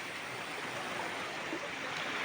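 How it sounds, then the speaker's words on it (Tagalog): Water keeps up a steady, faint rushing flow near the seashore beside large rocks, a continuous even wash with no voices. "May agos pa yung tubig."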